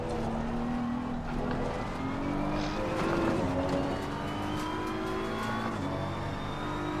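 BMW M4 race car in Assetto Corsa Competizione, its engine droning steadily with rising and falling pitch as it accelerates and shifts, loud and continuous with no talk over it.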